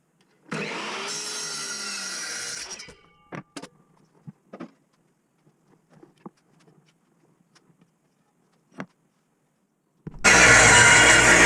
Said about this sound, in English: So now I'm going to start cutting the frame pieces up, stretchers and aprons.